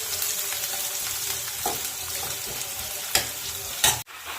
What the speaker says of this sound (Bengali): এখন পেঁয়াজ কুচি দিয়ে দিচ্ছি। লাল লাল করে ভেজে নেব।